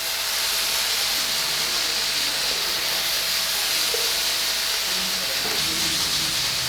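Vegetables light-frying in cooking oil in a pan give a loud, continuous close sizzle and hiss that stays steady throughout, with faint clinks of stirring underneath and no talk.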